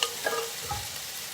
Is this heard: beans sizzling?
yes